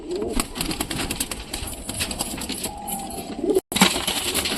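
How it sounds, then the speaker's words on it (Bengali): Pigeons feeding at home give soft, intermittent bird sounds under a steady, noisy background, with a brief dropout near the end. "তো পায়রাটা খুব সুন্দর পায়রা আছে"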